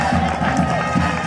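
Applause and cheering from a crowd at a children's summer camp talent contest, a dense continuous wash of many hands with some voices mixed in, steady and fairly loud throughout.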